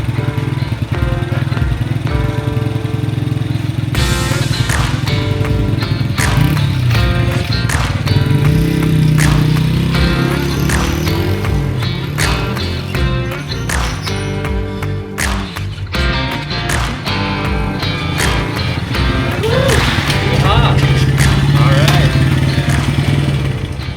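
1990s Honda XR100 dirt bike being ridden, its small single-cylinder engine buzzing loudly and continuously nearby, revving up and down with clattering mechanical noise throughout.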